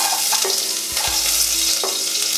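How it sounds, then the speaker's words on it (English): Chopped onions hitting hot oil in a pan and frying with a loud, steady sizzle, broken by a few scrapes and stirring knocks, close up with no talking. "I'm going to put the onions in, so this will probably sizzle a little bit."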